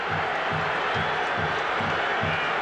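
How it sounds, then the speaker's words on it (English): A stadium crowd at a 1996 Georgia Tech vs. Clemson college football game sends up a loud, steady roar with a faint rhythmic pulse underneath, continuous through the moment. "The crowd doesn't like it."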